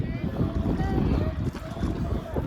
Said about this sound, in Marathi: जातो तर परत बोट चालू झालेली आहे